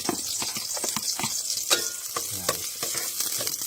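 Garlic sizzles and crackles in hot oil in a pan, with a steady frying hiss and occasional stirring scrapes close by; no talking.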